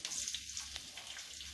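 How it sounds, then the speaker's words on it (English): Onion frying in a pan for a home-cooked vegetable dish, a steady close sizzle with faint crackles and pops running continuously throughout, no voices. "First, I put in the onion to fry a little bit."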